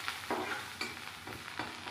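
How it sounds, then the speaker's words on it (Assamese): Garlic cloves frying in hot oil in a wok until reddish, a soft steady sizzle with a few stirring scrapes at regular intervals, close and fairly quiet, no voices. "মই ৰঙচুৱা হোৱালৈ ভাজি থাকিম"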